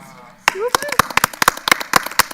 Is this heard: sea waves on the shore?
no